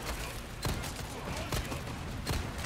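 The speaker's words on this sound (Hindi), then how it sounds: "मैं बिना देखे गोलियां चला रहा हूँ" Gunfire in Resident Evil 4, several sharp shots spaced about a second apart over a busy in-game background.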